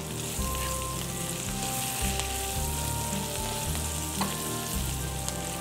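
Onions and dried chillies sizzle steadily in hot oil in a pan for chutney, a continuous close frying crackle with occasional stirring and a low background hum, no voices.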